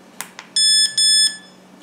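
Two short clicks, then two sustained high-pitched electronic beeps in quick succession from Fat Shark FPV goggles' DVR recorder at the press of its top button, loud and close, with no talking.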